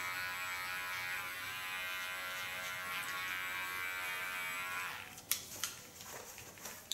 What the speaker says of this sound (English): With my small clipper, I set out the contour line in the sharpest way